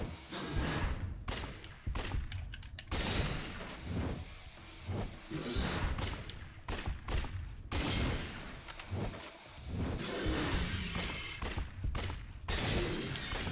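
Rapid gunfire bursts and sharp booms from a video game, dense and loud throughout with repeated volleys and brief gaps, layered over a busy, clattering background.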